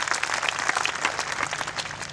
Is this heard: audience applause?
yes